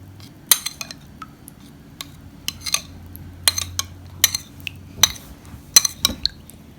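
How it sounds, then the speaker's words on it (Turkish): A tablespoon mashes tomato paste with water in a dish while stuffed peppers are prepared, giving sharp, scattered metal-on-dish clinks and taps at an irregular pace, close and fairly loud over a low steady background hum. "Bir yemek kaşığı salçamızı su ile ezerek"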